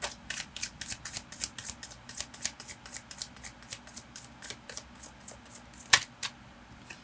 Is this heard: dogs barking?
no